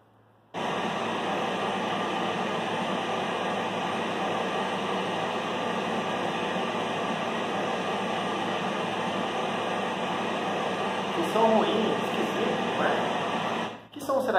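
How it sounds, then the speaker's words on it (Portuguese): A vacuum cleaner switches on and runs with a steady, loud whooshing roar and hum for several seconds before cutting off. "Esse som que você acabou de ouvir é o som do aspirador de pó."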